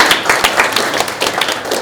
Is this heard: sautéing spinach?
no